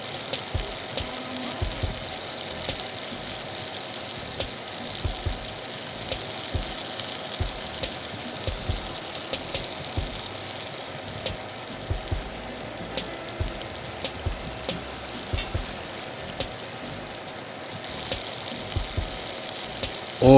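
Oil heats in a frying pan for an egg foo young dish, giving a continuous hissing sizzle with scattered crackles, close and steady throughout.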